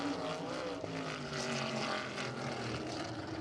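Number 51 race car on its warm-up lap at Anderson Speedway, a steady loud engine roar holding at full throttle throughout, close and continuous with no voices over it.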